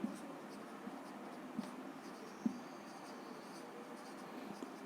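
Notes being written on a classroom board during a maths lesson, heard as faint, sparse scratches and taps against a low background hum, with no voice over them.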